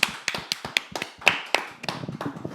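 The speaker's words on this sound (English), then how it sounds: "Let's give it a round of applause, actually." A small group claps on a podcast set, giving scattered, uneven hand claps and taps in a short irregular burst, close and fairly dry.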